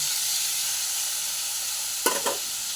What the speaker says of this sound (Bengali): এবার দিয়ে ভালো করে নেড়ে চেড়ে নেব